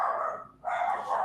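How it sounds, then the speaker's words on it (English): Indoor dogs give two quick, close barks separated by a short pause, in a clip lasting little more than a second. "I'm sorry about my dogs."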